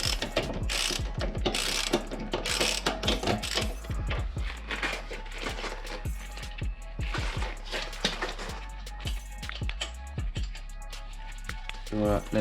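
Ratcheting clicks from a hand wrench loosening the last brake caliper screw on a Rieju MRT 50cc, rapid repeated pawl ticks in bursts with a steady low hum and some talk over the work.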